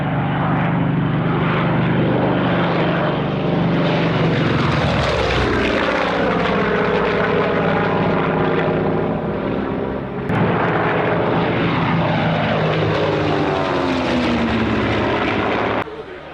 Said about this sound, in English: Visitors were treated to flybys of the museum's vintage aircraft.